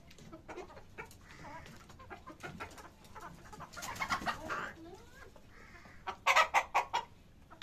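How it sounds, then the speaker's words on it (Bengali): A flock of Egyptian Fayoumi laying hens on a farm in Shahjadpur, Sirajganj cluck as they gather to drink, with scattered soft clucks building to a louder burst of close, rapid calls near the end. "সব মুরগিগুলো এদিকে চলে আসছে, আস্তে আস্তে এই পানিগুলো খাবে আর কি"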